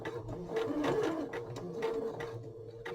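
A sewing machine stitches bias tape onto a cushion cover, a steady close mechanical whirr with a fast rhythmic needle chatter that speeds up and slows slightly, with no talk.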